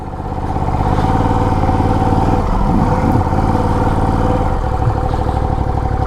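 A Ducati DesertX motorcycle rides off road over slippery mud and ruts, its engine droning steadily and loud close up throughout, with some clatter and rev changes.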